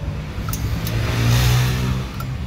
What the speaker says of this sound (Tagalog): Skandalosa na tong motor na to.